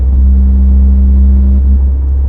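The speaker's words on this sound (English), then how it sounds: "Once I go around 60 miles an hour, it does tend to vibrate" Car driving at around 60 mph with its body vibrating, a loud low rumbling road drone under a steady humming tone that fades out near the end, no talk.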